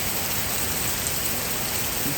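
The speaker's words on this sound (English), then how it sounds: "It's Monday and it's raining." Steady outdoor rainfall on a Monday hisses continuously at an even level, a dense wash of drops with no voices or other distinct sounds.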